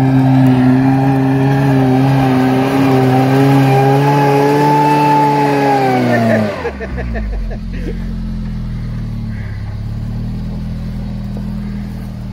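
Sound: off-road vehicle accelerating up a wet hill

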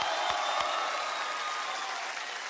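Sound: audience applause

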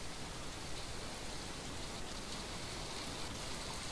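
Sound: rain in the video game From The Depths

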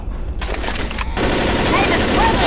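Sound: rifle gunfire in video game Left 4 Dead

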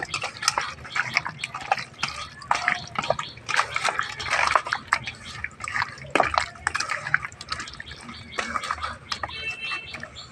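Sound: chicken being mixed with ginger-garlic paste marinade

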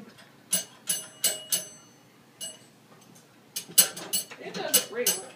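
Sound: toy fire truck bell ringing

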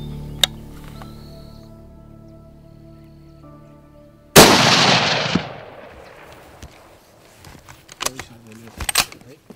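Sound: rifle shot at a red stag while hunting

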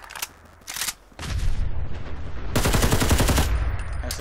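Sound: gunfire from a modded weapon in the video game Fallout 4

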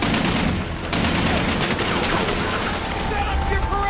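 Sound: gunfire in a battle from the film Black Hawk Down

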